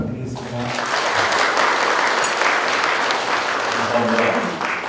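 Audience at a business forum in Korea applauding two guests, a dense, sustained wash of clapping that swells quickly and holds steady at full strength for several seconds.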